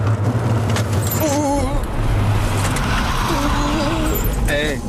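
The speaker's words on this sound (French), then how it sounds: "On va prendre un peu de vitesse pour aller se faire la chicane." Renault Fuego driving and picking up speed toward a chicane, a steady close engine drone with low rumble and road noise running throughout, rising slightly in pitch, with faint squeaks over it.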